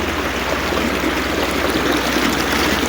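A natural stream runs steadily at Dawarsan Ziarat in Jandar Bari, Abbottabad, giving off an even, continuous rush of flowing water with no breaks and no voices.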